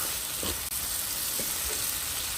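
Sliced tomatoes fry in a pan for salmon biryani, making a continuous dense hiss and sizzle, close and even, with a couple of faint stirring touches and no voices.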